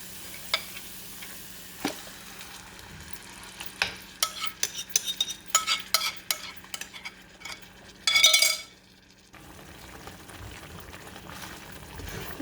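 A spoon scrapes and stirs marinated chicken into fried masala in a pan for Hyderabadi masala chicken, with rhythmic close clatters and a brief loud sizzling burst near the end; no talking.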